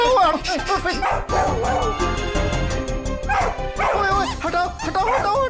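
A dog yips and barks excitedly several times, close by, mixed with music and agitated voices in the background.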